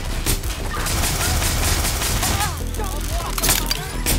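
Rapid gunfire bursts and booms from the video game Watch Dogs Legion, loud and dense with music and game noise, while someone talks over it.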